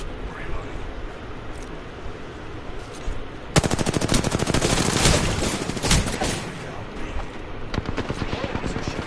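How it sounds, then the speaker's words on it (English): Rapid automatic gunfire from enemies in Apex Legends bursts in loud and dense, rattling continuously for several seconds after a quieter stretch of game noise, with talk mixed underneath. "Enemies are shooting at me."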